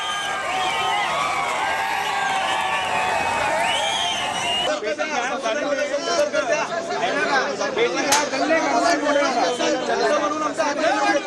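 A large crowd of Shiv Sena workers gathered at a polling centre makes dense, continuous chatter and overlapping voices that swell and rise throughout.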